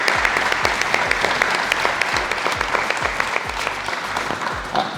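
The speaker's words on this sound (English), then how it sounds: "A round of applause for our friends at Local 1285." Sustained audience applause fills a facility opening ceremony, dense clapping from many hands close by, steady for several seconds with no voices over it.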